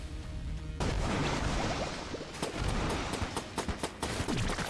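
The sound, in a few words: makeshift cannon firing in Enter the Gungeon, video game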